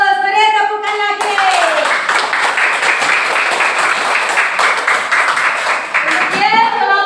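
A classroom group claps together in sustained, dense applause for several seconds, bracketed by a teacher's voice speaking just before and after.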